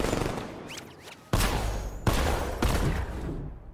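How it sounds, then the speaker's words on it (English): Rubber-bullet gunfire in the Batman: Arkham Knight video game, loud close bursts with three sharp onsets over a dense, noisy background of game sound, with no talking. "Rubber bullets."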